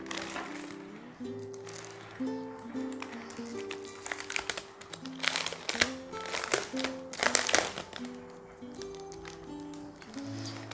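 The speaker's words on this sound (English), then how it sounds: "Plastic removal" Plastic wrapping crinkles and rustles up close in irregular bursts as it is removed from a Logitech G512 Carbon mechanical keyboard, while a soft melody plays quietly underneath.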